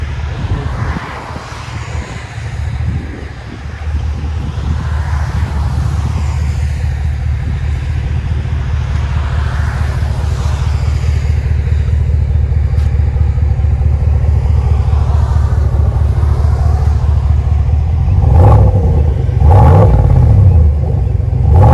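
A deep, rumbling V8 engine of a GMC Sierra Denali 6.2L pickup truck with a Flowmaster exhaust idles and revs steadily for a long stretch, heard from inside the vehicle, with a couple of louder surges near the end.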